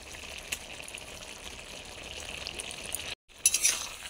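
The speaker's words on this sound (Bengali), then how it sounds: "এবার ডালের বড়াগুলো দিয়ে দেবো।" Lentil fritters (dal bora) frying in a pan of curry, a steady soft sizzle and bubbling that pauses briefly, then returns brighter with a light clink.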